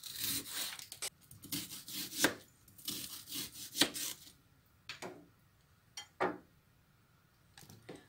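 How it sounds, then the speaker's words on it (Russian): A knife slices an onion on a board in a run of crisp, irregular chops with short pauses between strokes, close up, with no talking. "Я нарежу лук. Можно кольцами, можно полукольцами,"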